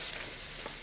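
Calamari body dropped into a hot pan for a seafood spaghetti, a steady close hiss of sizzling oil that holds at an even level for under a second, with no voices.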